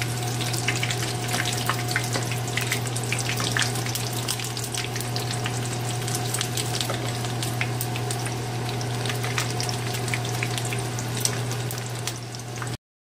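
Battered cauliflower frying in hot oil gives a steady, dense crackling sizzle that runs unbroken from start to finish, close and fairly loud, with no voices.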